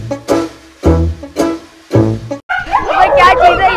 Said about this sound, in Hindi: अबे कितने खतरनाक कुत्ते, देखो कितने खतरनाक हैं